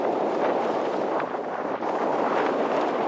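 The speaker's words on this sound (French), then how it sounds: "C'est juste que le vent il est plus fort à un moment donné." A steady, loud rushing roar of strong wind buffets the microphone for the whole stretch at a wingfoiling spot, with no voices.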